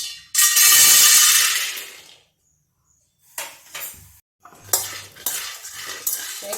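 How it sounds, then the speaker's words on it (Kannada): Peanuts roast in a metal pan on a stove while a utensil stirs and scrapes them, with bursts of clattering and scraping separated by brief pauses, close and fairly loud, with no talking. "ಶೇಂಗಾನ ಕೈ ಬಿಡದೆ ಹುರ್ಕೋಬೇಕಾಗುತ್ತೆ."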